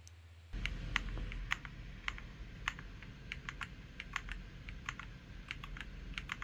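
Someone types on an AJAZZ AK870 plastic mechanical keyboard, crisp close keystroke clicks in an irregular run over a faint background hum.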